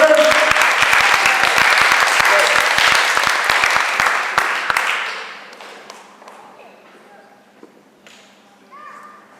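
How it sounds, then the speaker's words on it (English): Wedding guests clap for the flower girls during the speeches, a loud, dense round of applause that thins out and fades to scattered claps and quiet room noise. "round of applause for the flower girls"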